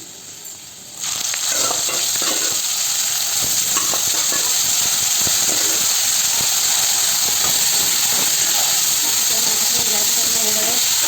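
Eel meat frying in oil with browned onions over a flame, a steady loud hiss and sizzle running throughout, rising sharply after the first second as the pieces hit the pan.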